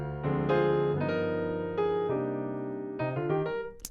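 A bright, brassy jazz trumpet solo, with sustained notes and quick runs, played close and fairly loud with no talking.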